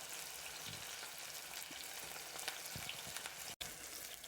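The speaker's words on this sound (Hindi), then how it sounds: "हमने मीडियम फ्लेम पे 2 से 3 मिनट तक प्याज को फ्राई करना है" Onions frying in a pan over a medium flame give a faint, steady, low-level hiss and crackle throughout, with no voices.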